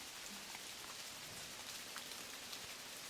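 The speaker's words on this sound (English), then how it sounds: "A little bit of rain in the forest." Steady rain falling in a forest, a soft continuous hiss of drops on leaves and ground with scattered louder patters, fairly quiet and even throughout, no voices.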